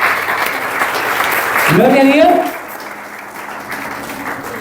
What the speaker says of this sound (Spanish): le damos un aplauso a los maestros que están aquí